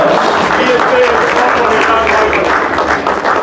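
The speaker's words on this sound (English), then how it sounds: "Just give him a round of applause." Audience applause at a community gathering with Shahid Afridi in Surrey, dense sustained clapping from a sizeable crowd that fills the whole moment, close and loud with a slight taper at the end.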